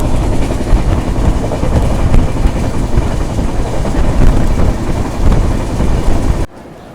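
Double decker train 22626 runs after leaving Katpadi junction, a loud continuous rumble of wheels and carriage clatter heard from on board, cutting off abruptly at the end.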